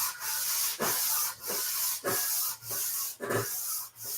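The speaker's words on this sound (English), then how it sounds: "I wanted to show you something to do with sanding" A tank is sanded by hand with sandpaper in steady back-and-forth strokes, each rasping rub clearly separated by brief pauses, close up and alone with no talking.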